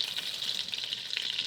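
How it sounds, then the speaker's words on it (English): Butter melts and sizzles in a pan for a creamy ham and cheese potato soup, a steady soft crackling hiss with small bubbling pops, close and moderately quiet. "Getting that butter melted up"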